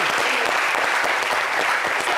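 TV studio audience applauding on a special Cannes 2023 entertainment show after a singer's opening number; loud, dense, sustained clapping close to the microphone, with no talk over it.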